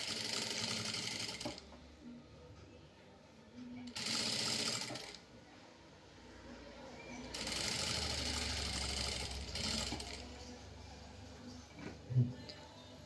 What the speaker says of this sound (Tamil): இப்போ நான் 1/2 இன்ச் கேப்பில் ஸ்டிச் பண்ணிட்டே வரேன்.